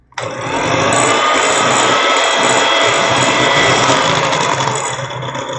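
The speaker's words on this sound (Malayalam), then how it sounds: "വെജിറ്റബിൾ ഓയിൽ ഒഴിച്ച് കഴിഞ്ഞിട്ട് വളരെ സ്പീഡ് കുറച്ച് വേണം ഇട്ടടിച്ചെടുക്കാൻ" An electric hand mixer whirs at low speed, beating vanilla sponge cake batter after vegetable oil has been added: a steady, close, even buzzing drone that starts abruptly and runs for about five seconds.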